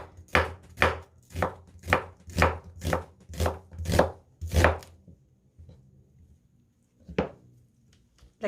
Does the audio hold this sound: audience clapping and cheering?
no